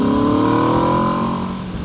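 A 2024 Aprilia RSV4 Factory 1100cc motorcycle accelerating hard, a loud, close, steady engine howl with rising pitch that stays continuous throughout.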